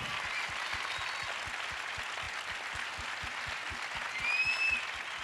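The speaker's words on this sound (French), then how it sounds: "en s'applaudissant très fort" A conference audience at a COP 21 climate event claps loudly and steadily, a dense wash of applause with a faint regular low thumping beneath and a brief whistle-like tone near the end.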